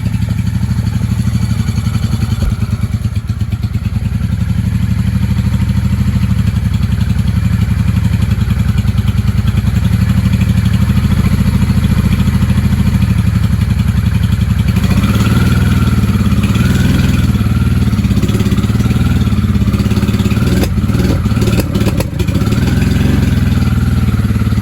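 A 1995 Honda Shadow VLX 600 V-twin motorcycle runs steadily on choke, a loud, continuous low rumble with some faint clatter and slight rises in revs toward the end; no talking.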